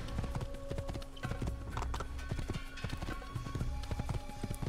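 Horse hooves clip-clopping at a riding pace in Assassin's Creed on the road to Damascus, a steady rapid rhythm of close, distinct hoofbeats running throughout.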